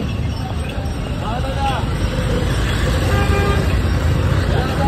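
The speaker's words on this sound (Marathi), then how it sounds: "ट्रॅफिक बघा किती आहे." Dense road traffic roars steadily nearby, with car and bus horns tooting repeatedly over the engine noise and people talking underneath.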